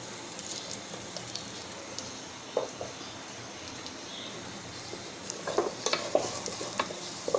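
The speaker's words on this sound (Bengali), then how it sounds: "আমি মশলাগুলোকে একটু ভেজে এ পর্যায়ে দিয়ে দিচ্ছি পেঁয়াজ কুচি" Spices and chopped onion frying in a pan for chicken biryani, a soft low sizzle punctuated by occasional scraping stirs that grow busier toward the end.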